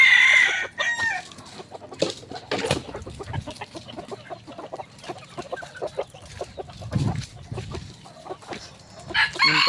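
A bantam rooster crows loudly and clucks close by among farm fowl at feeding time, repeated calls over a busy backyard.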